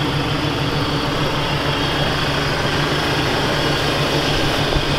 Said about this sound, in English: This is an old start, cold start, 6-liter Chevy.